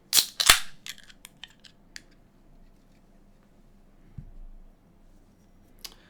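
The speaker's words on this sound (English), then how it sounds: "let's get this cracked open. We don't need the Balisong bottle opener because it's a can." A beer can cracks open with a sharp double pop and hiss, followed by a few faint clicks and small metallic taps in an otherwise quiet room.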